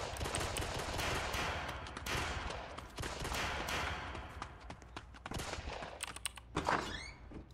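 Dense, repeated gunfire from a Roblox game set in south London cracks in irregular bursts, mixed with thuds and clatter, and the shots swell louder near the end.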